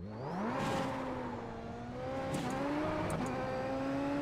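A Super Formula SF23 single-seater with a dual-clutch gearbox, in a racing sim, makes a launch-control start at full throttle. The engine howls and climbs in pitch, dropping briefly at each quick upshift, then keeps pulling hard and steady with no talk over it.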